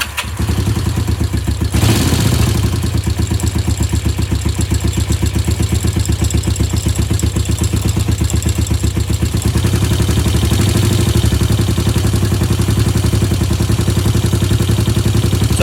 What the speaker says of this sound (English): set your idle speed to what it should be in the manual, which should be about 1100 to 1300 RPM for these bikes